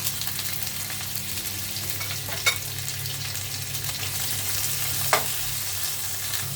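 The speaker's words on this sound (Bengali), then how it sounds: "এখন আমি শুটকিগুলো ভেজে নিব।" Dried fish (shutki) fries in oil in a pan with a steady, dense sizzle and crackle, while two brief clinks of a utensil stand out, and no one speaks.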